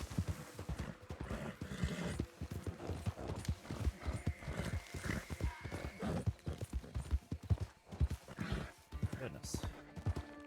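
Horse hooves clip-clop steadily in Red Dead Redemption 2, with a neigh partway through, all heard under ongoing talk.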